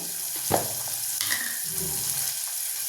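Tomato and onion frying in a pan with salt being added, a steady close sizzle running throughout with a few brief clinks and scrapes of a utensil.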